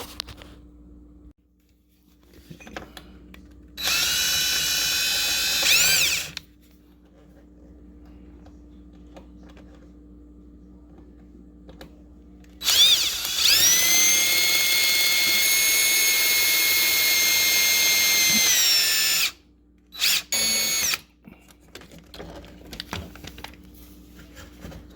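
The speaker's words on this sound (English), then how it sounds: "Usually you get an 1/8 inch drill bit, and we'll show you, drill right through there." Drill with a 1/8 inch bit boring out pop rivets on a dishwasher door seal, two sustained high-pitched whining bursts, one about two seconds and a longer one about seven seconds, loud and close with quiet gaps between.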